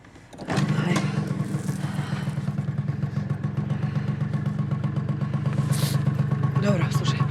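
A kick-started motorcycle engine catches after a short scrape and settles into a loud, steady, chugging idle close by, with a brief voice over the running engine.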